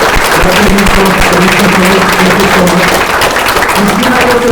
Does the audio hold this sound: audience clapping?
yes